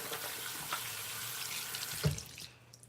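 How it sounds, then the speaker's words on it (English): Hands are wet under a running bathroom tap, a soft steady stream of water with a brief splash and knock near the end before it cuts off into quiet. "So what I'm gonna do is wet my hands again"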